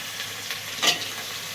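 Brinjal and potatoes sizzle and fry in a hot pan, a steady close crackle with a brief louder hiss near the end as they're stirred.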